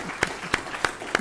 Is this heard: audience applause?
yes